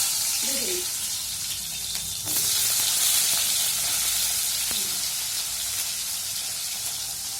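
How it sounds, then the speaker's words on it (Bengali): Pointed gourd frying lightly in oil left over from fried fish, a continuous sizzle with a few scraping clanks of a utensil against the pan. "তা ওই তেলে আমি পটলটা একটু হালকা ভেজে নিচ্ছি।"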